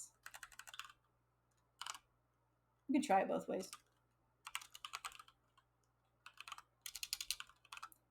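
Bursts of rapid typing on a computer keyboard, crisp close clicks in several short runs separated by pauses, with someone talking briefly between them.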